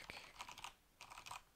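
Dummy data is typed on a computer keyboard in two short bursts of quick, light key clicks separated by a brief pause, close by and fairly quiet, with no talking.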